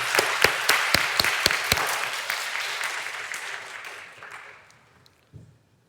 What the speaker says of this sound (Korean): 우리 오케스트라하고 성가대에게 박수 한번 줄까요?